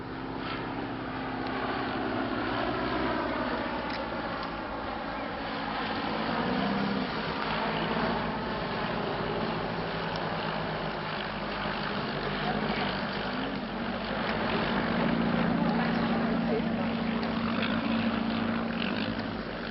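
Vintage de Havilland propeller biplanes, including a DH-51, a DH-87B Hornet Moth and a DH-60G Gypsy Moth, drone overhead in formation at Old Warden, a steady layered engine hum that swells and recedes while a commentator talks.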